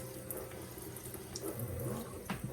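Tap water runs and splashes as dust is rinsed off houseplant leaves, a soft, steady gush over a sink with a few brief spattering shifts, quiet and without talk.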